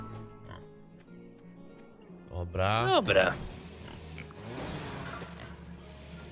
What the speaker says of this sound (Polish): Trufle nawet tu ze świniami są, o kurde